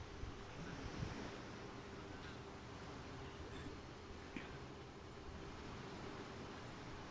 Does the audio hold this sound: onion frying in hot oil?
no